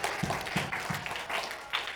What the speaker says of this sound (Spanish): Damos un aplauso a los hermanos que apenas llegaron